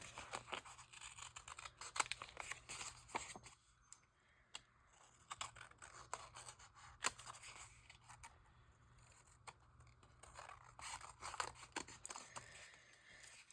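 Scissors snip through junk journal paper in quick irregular cuts, close and fairly quiet, with a low steady hum running underneath.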